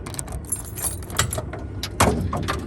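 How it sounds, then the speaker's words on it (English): Metal keys jangle and clink up close, with a sharper clunk near the end as one is tried in the trunk lock of a 1965 Ford Mustang. "Let's try this key."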